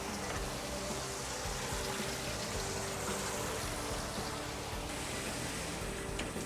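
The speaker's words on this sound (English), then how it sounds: "This is just clean water. Turn the water on." Tap water running steadily to rinse a liquid photopolymer plate in a rinse section, a continuous hissing splash that stays even and fairly quiet throughout with no talk over it.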